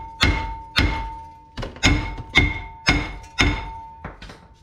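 Heavy 8-pound hammer beating a rusted front brake rotor on a 2016 Ford Taurus, seven loud metallic thunks in a steady rhythm with ringing decay, close and alone.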